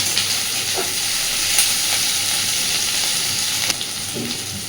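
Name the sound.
onion, capsicum and green chillies frying in a pan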